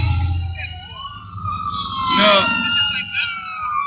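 A wailing emergency vehicle siren sweeps up and down as it passes nearby, with a voice speaking over it and a louder burst midway.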